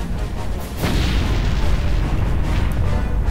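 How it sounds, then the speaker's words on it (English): Explosions during a dream sequence in the video game Star Wars: Knights of the Old Republic, a dense, continuous rumble of booms and bursts that swells louder after the first second and keeps rolling to the end. "Having terrible dreams, there are explosions going on."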